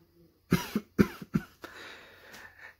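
A person coughs three times in quick succession, close and forceful, followed by a softer breathy exhale.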